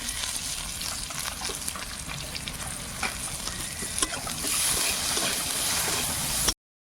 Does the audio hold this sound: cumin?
yes